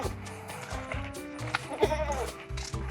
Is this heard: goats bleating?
yes